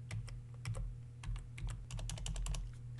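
Keys on a computer keyboard are pressed in quick irregular clicks and taps, close and fairly soft over a low steady hum, with no speech.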